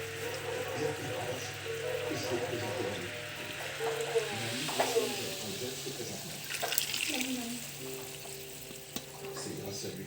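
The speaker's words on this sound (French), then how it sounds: "encore 15 secondes et on viendra verser le caramel dans le moule beurré" Hot caramel poured into a buttered cake tin for a pineapple upside-down cake, giving a steady sizzling hiss with faint clinks and a voice talking over it.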